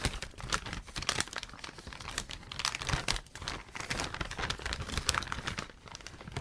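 A plastic bag crinkles and rustles continuously as watch case back press dies are taken out of it, with dense, close, irregular crackling bursts and no talking.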